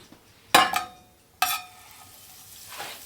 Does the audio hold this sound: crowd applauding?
no